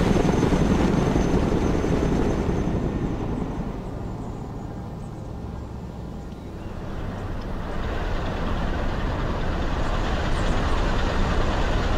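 A Chinook twin-rotor helicopter flies in the war game Broken Arrow, its steady low rotor and engine roar filling the scene, easing slightly midway before swelling again, with no talk.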